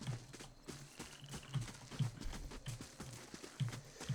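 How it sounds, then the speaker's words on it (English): Hooves clip-clop in a steady walking rhythm in the video game Pillars of Eternity, close and moderately quiet, several beats per second. "so that's just horses"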